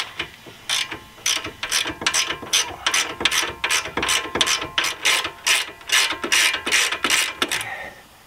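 An 18 mm ratchet wrench turns a suspension bolt on a Renault while the suspension arms are being replaced, giving a loud, close, steady series of about fourteen ratcheting strokes, each a quick burst of clicks, with no talking.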